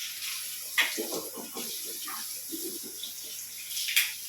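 A bathroom tap runs while someone brushes their teeth and washes their face, a soft, steady hiss of water under intermittent quiet talking, with a few brief splashes.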